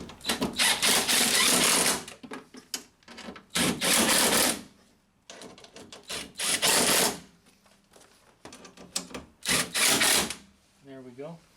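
Power tool tightening the window regulator bolts on a Honda Civic door, sounding as several loud whirring bursts of a few seconds each, separated by short pauses, close by.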